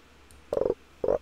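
A sound effect from the video game Inscryption, from its attack-power puzzle, gives two short, low, croaking, rattling bursts, each under a quarter second, fairly faint over a quiet background.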